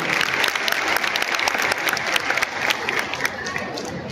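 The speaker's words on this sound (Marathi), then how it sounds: "टाळ्या वाजवून सगळ्यांना पहिल्यांदा करूया।" An audience at a ceremony in Amravati claps in a dense, continuous burst of applause that holds steady for several seconds, close and fairly loud, with a voice faintly beneath it.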